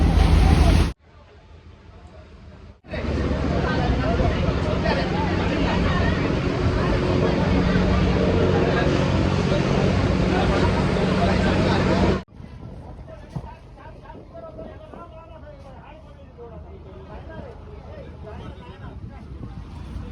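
A boat starting out on the sea off a beach in South Goa, with a steady loud rush of engine, wind and waves that drops away abruptly and leaves quieter wind and water noise.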